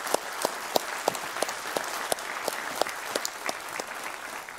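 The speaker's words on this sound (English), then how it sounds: "So I want to give an applause to Ola Elvestuen for this fact." Conference audience at the Oslo Tropical Forest Forum plenary applauds steadily, a dense wash of many hands with crisp individual claps standing out in a fairly regular rhythm, sustained and moderately loud.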